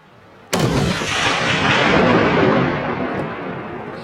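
A single sharp rifle shot cracks out during a spring backcountry black bear hunt, close and very loud, followed by a long rolling echo that slowly fades across the open terrain.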